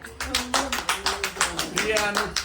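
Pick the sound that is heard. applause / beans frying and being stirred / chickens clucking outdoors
applause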